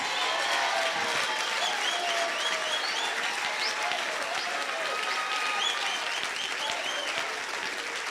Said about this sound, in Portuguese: Podemos dar uma salva de palmas para ele.